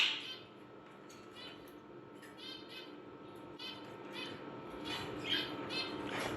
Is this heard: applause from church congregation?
no